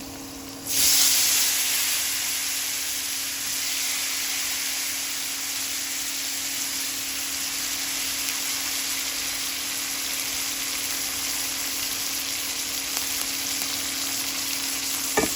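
Salted eggplant pieces dropped into a hot pan for frying. A sharp burst of hissing comes at the start, then a loud steady sizzle holds for the rest of the stretch without any talk.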